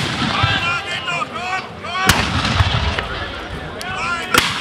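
Black-powder cannon and musket fire at a reenactment of the 1813 Battle of Dennewitz, with sharp gunshot cracks at intervals over a continuous crowd and outdoor din and voices.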